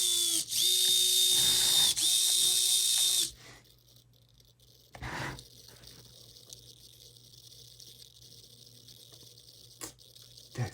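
A radio-controlled winch on a Reefs 422hd crawler whirs loudly with a high geared whine in two bursts broken by a brief pause. Quieter clicks and faint mechanical noises follow.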